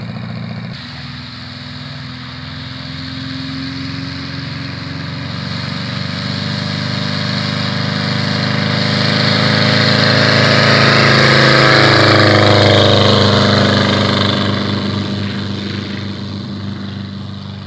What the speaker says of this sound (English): Flying machine.